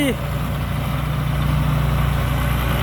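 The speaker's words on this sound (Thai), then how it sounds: "เครื่องยนต์ยอดฮิต Nino Direct Injection 6สูบเทอร์โบ JO84" A combine harvester's six-cylinder turbocharged direct-injection diesel engine idles with a steady, low, even rumble that holds constant and close throughout, with no speech over it.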